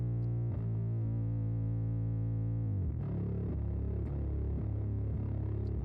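Two layered bass tracks, one EQ'd fuzz bass and one chorus bass with its low end cut, sustaining thick distorted tones that change notes partway through. The sound is steady and continuous with no voices.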